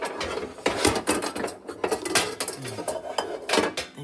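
A metal pan is pulled from a kitchen cupboard, clanging and clattering against other pots and cookware in a series of close, sharp knocks and rattles with no talking.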